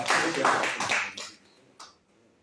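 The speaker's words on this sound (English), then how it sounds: "Can you give her a round of applause?" A short round of applause from an audience at a Rotary club committee inauguration, honoring Rotarian Olubukola Balogun; a dense burst of clapping that quickly thins out and fades, with a final faint smattering.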